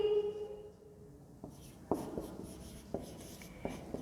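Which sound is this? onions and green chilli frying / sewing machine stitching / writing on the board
writing on the board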